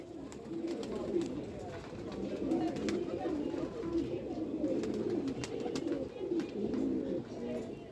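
Rampuri pigeons kept in a loft, a busy, continuous wash of overlapping coos and rustling at moderate distance, with scattered sharp clicks and no clear talk.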